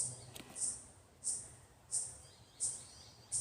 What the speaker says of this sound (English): One of the things I've really enjoyed being back in Australia is the birds.